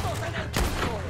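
A single sharp gunshot from Red Dead Redemption 2 cracks out near the middle of a brief, otherwise hushed moment of gameplay. Nothing else stands out around the shot.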